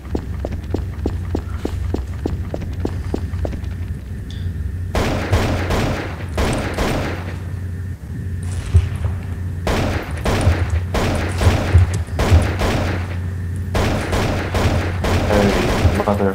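AK rifle fire in Counter-Strike: Source, repeated bursts of automatic shots over steady game background noise, alternating with quieter stretches of footsteps and lighter clicks.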